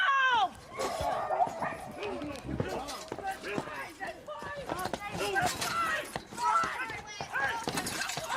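A pit bull barks repeatedly and yips in excited bursts, mixed with whimpers, while people talk and shout over it nearby.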